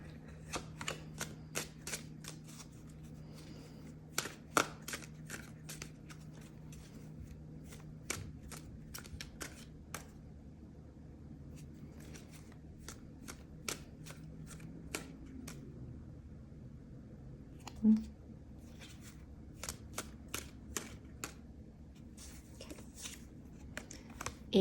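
Tarot cards being shuffled, handled and drawn during a reading: quiet, close sequence of crisp card snaps, flicks and slides in irregular bursts over a faint background hum.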